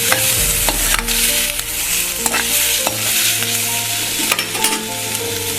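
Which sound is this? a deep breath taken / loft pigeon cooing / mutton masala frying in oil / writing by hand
mutton masala frying in oil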